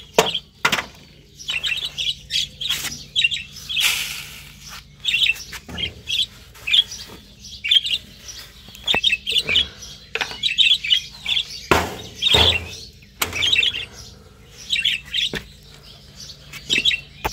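Pet birds chirp and tweet busily at feeding time, a dense run of short, bright calls and occasional squawks from several birds close by, with a few light knocks and rustles in the cage.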